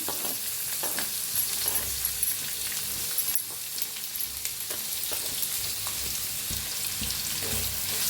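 Sliced onion frying with curry leaves, mustard seeds and asafoetida in hot oil, a steady close sizzle with occasional scraping stirs throughout and no voices.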